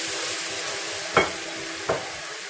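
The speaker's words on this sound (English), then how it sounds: "Add a little bit oil. Add the red wine." Red wine goes into a hot pan during steak cooking, a steady close sizzle punctuated by two brief louder splashes or stirring scrapes, with no talking.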